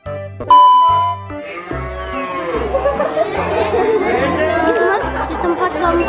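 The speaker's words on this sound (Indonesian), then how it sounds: "Di tempat keempat kita mendengar ada suara sapi" Cows moo at a dairy farmhouse in Lembang, a long low call rising over steady chatter from a crowd of visitors, with a chime ringing out nearby early on.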